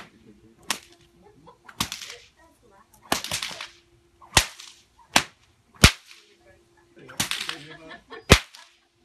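A whip cracks about eight times in irregular succession from a performer in Bandera, Texas, each snap sharp, loud and close, with quieter swishing between and no speech.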